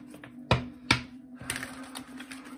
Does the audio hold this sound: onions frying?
no